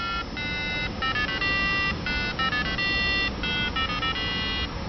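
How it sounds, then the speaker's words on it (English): A homemade electronic countdown timer plays the Star Wars theme as a beeping melody once it reaches zero, a run of sharp, tinny electronic tones in a steady rhythm over a constant background hiss. "Once it reaches zero, it'll play the Star Wars sound theme track."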